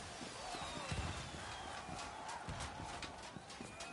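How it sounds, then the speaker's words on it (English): In the video game Tiny Tina's Wonderlands, a horse clip-clops with quick hoof thuds and gives a brief whinny over a dense, hissy game soundtrack, moderately loud and close. "Hello, horse."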